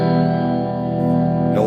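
An electric guitar runs straight through a Y-DNA Instigator amplifier with no effects and the master volume untouched, ringing as one thick, sustained, distorted chord with a brief scrape of the strings at the end.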